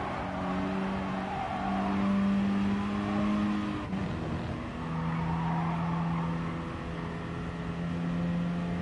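A racing car engine holds a loud, sustained full-throttle drone in the video game Gran Turismo Sport, with the pitch dipping briefly around a shift before climbing and holding steady again.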